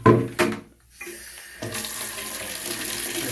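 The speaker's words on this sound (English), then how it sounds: "I'm about to fill this up with water." Water pours from a bucket into a Zeny portable washing machine, a steady close splashing fill that starts with a couple of sloshes, briefly drops away, then continues as a constant rushing stream.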